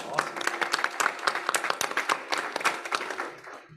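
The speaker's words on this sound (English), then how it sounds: "Can we pause and do a little round of applause?" A crowd applauds with brisk, steady clapping that fades slightly toward the end.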